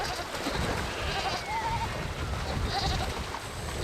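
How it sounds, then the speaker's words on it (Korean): A goat bleats in short wavering cries, a couple of times, while being dragged across a river in cold mountain country, the calls set against a constant wash of rushing water. "염소가 질질 끌려 강을 건넙니다"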